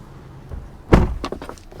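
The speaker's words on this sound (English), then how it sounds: "also I'm gonna shut the door" Door of a 2023 Toyota Highlander Limited slamming shut once, a close, solid thud followed by brief rattling and settling sounds, with no talking.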